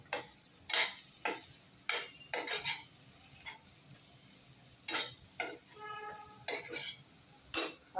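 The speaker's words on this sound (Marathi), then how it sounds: "हा चिरलेला कांदा आहे तो पण घालून घेते आणि कांदा परतून घेते" Chopped onion sautéed in a pan for a potato masala dish, with a soft sizzle under repeated spatula scrapes and clinks against the pan, close and moderately loud in irregular bursts.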